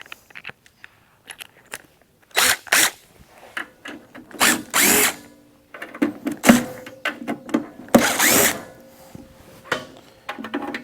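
Power drill backing screws out of a Lincoln 135 Plus welder's housing during repair, with several short bursts of whirring separated by clattering handling noises and pauses, close and fairly loud.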